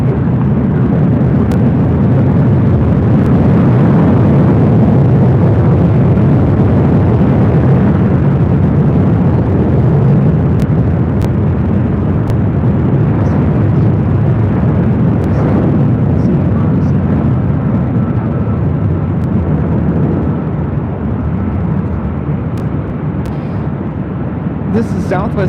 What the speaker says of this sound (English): 586 taking off to Denver, Colorado on a 737-700 in the Arizona 1 livery